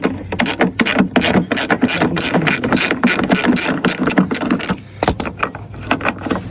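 A metal bracket being removed from an OEM BMW headlight during a headlight install, with a dense run of rapid ratchet-like clicks and mechanical rattling, close and loud, pausing briefly near the end.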